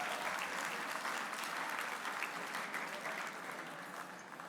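Applause from banquet guests in a hall for the kitchen staff and servers, a dense steady patter of many hands that holds for several seconds and eases slightly toward the end.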